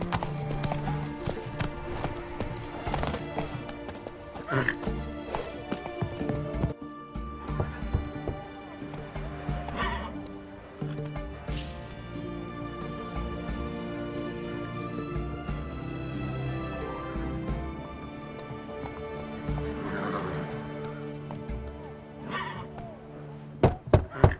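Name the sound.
horse Roach hooves and neighing, from video game The Witcher 3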